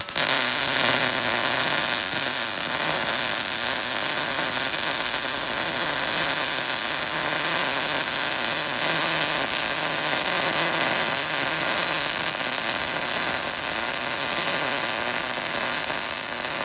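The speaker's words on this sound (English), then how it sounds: "After adjusting the gas, that weld looks a little bit better." An Arccaptain Mig200 MIG welder lays a continuous bead, a steady dense crackling hiss that holds unbroken and close throughout.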